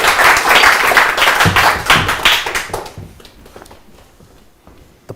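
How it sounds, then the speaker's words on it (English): A small group of people claps at a company mixer, a dense burst of applause for about three seconds that thins into a few scattered claps and fades out. "All right, let's clap for us here!"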